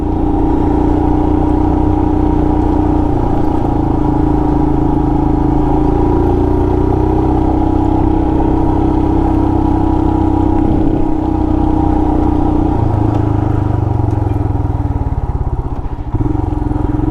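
A Royal Enfield Himalayan motorcycle ridden off road through a national forest, its single-cylinder engine droning loudly and steadily with slight shifts in pitch as the rider changes throttle.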